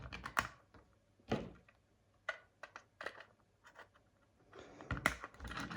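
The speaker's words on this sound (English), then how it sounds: "So taking some snips, I'm going to take the buffers off first." Snips clipping the buffers off an OO gauge model wagon, a series of small sharp snaps and clicks at irregular intervals, quiet and close.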